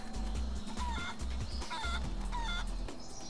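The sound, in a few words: chicken clucking in video game Guacamelee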